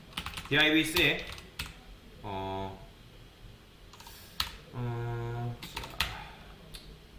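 Keys on a computer keyboard clatter in short, close bursts as code is typed, alternating with stretches of someone speaking Korean.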